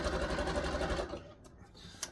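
Sewing machine running a fine, short stitch to box-tack elastic onto wrestling tights, a steady close whirring hum for about a second before stopping, followed by faint handling noise.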